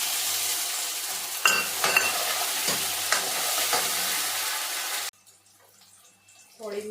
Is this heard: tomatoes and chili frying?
yes